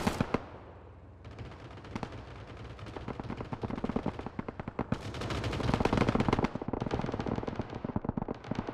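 Many players fire at a BRDM armored vehicle in PUBG, producing dense, overlapping bursts of automatic gunfire and single shots that build to a loud, sustained barrage.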